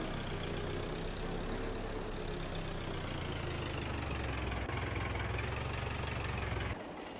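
A tractor engine idles steadily in Farming Simulator 22, a continuous low, throbbing rumble with an even mechanical hum that holds at a constant level before cutting off just before the end.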